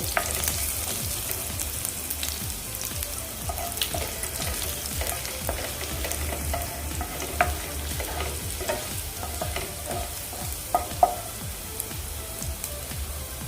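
Crushed garlic frying in a pan for a chakvat (green leafy vegetable) bhaji, with a steady crackling sizzle and scattered small pops that continue throughout at moderate level, with no voices.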